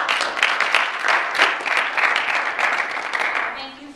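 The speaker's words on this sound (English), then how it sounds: "So a round of applause." Audience applause at a business networking chapter meeting, a steady wash of clapping that runs for about three and a half seconds and then tapers off.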